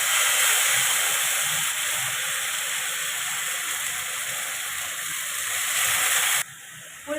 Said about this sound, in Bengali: এবার আমি সর্ষে, পোস্ত, লঙ্কা বাটাটা তেলের উপর দিয়ে দেবো